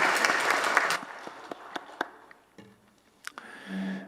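A church congregation's applause during a Sunday worship service rings out in a reverberant hall, then thins to a few scattered claps before fading away.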